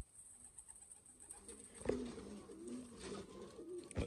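Pigeons cooing softly in a loft of old-breed Sialkoti and French birds, low murmuring coos repeating through the second half over faint room noise.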